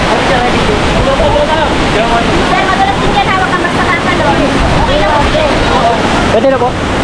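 Hulugan Falls in Laguna, a loud, continuous rushing roar of falling water heard up close, with people talking under it.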